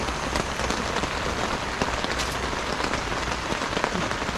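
Steady, dense patter of rain drumming on a tent overhead near Guillestre, France, continuous and close, with scattered louder drops standing out.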